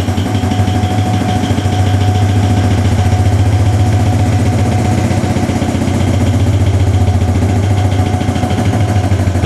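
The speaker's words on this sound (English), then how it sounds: "You can hear the pump running in the background." Hydraulic pump on a pneumatic drum rotator tipper runs as a steady, loud mechanical drone with a low hum and constant vibration, unchanging throughout and heard close with no talk.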